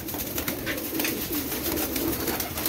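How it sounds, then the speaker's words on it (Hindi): Teddy pigeons coo in soft, repeated low throaty phrases close by, layered over a constant hissy background noise. "ये कबूतर हैं जी टैडी"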